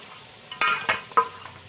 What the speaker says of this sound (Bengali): এই যে এখানে টমেটো আর পেঁয়াজটা একটু সামান্য ব্রাউন করে ভেজে নিচ্ছি